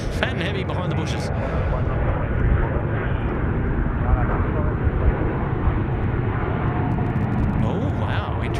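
A heavy Qantas airliner on its long flight to Vancouver takes off from Sydney Airport, its jet engines roaring steadily and loudly throughout, with people talking over the engine noise.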